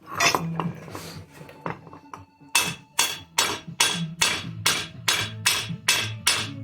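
Hammer whacks on a universal joint cap of a 1997 Jeep Wrangler's front axle during replacement: a string of sharp metallic strikes, close and loud, starting irregular then settling into a steady rhythm of about ten blows, no talk.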